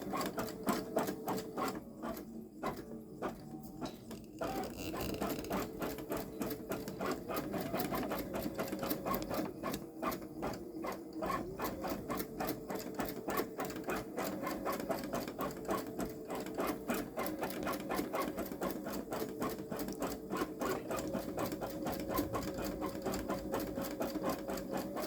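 Babylock Solaris Vision embroidery machine running long stitch embroidery, a fast, steady mechanical rattle and whir with regular stitching beats, close and continuous, the needle rhythm shifting slightly now and then.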